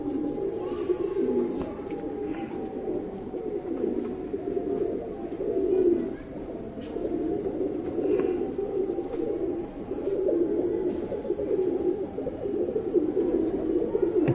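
White Buri pigeons cooing in a loft, soft low rolling coos repeating continuously at close range, with faint rustling and no talk.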